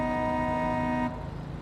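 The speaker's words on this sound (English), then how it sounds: "when you honk your horn" A truck in Construction Simulator 1.06 on PS5 blasts a loud, steady horn for about a second, which cuts off sharply and leaves a low engine rumble.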